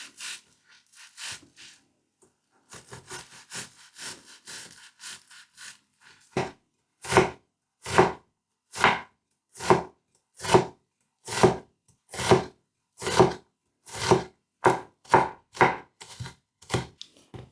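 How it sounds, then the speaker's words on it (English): A knife chopping half an onion into small pieces on a cutting board, starting with quick light taps and then settling into a steady run of firm, evenly spaced chops close up, with no talk. "Half an onion. Here, we're going to cut it into small pieces."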